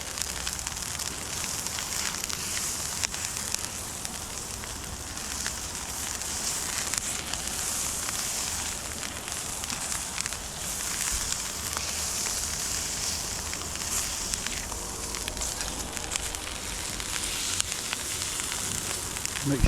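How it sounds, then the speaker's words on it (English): Butter melting and sizzling in a hot pan set up outdoors for blackened crappie, giving a steady, dense hiss and crackle that runs unbroken at moderate loudness with no voices over it. "Put a little butter on here"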